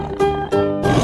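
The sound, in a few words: tiger roar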